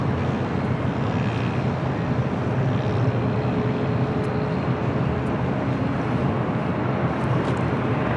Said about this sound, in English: A380 Super continuing taxi down to Alpha